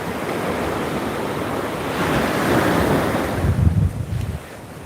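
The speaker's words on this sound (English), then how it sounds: "You guys should be able to hear the audio really well, the waves really well" Ocean waves break and wash continuously on a Hawaii shore, a loud, steady roar of surf with wind buffeting the microphone and a heavier surge of water near the end, with no voices.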